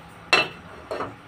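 A metal casserole pot clanks down sharply on a kitchen surface, followed shortly by a softer second knock.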